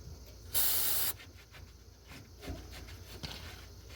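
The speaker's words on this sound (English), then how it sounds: "Right now, I'm just cleaning some paint off with some brake cleaner" Brake cleaner sprayed onto a truck hitch to strip paint, one short sharp hissing burst from the aerosol can, then quiet shuffling and faint handling noises.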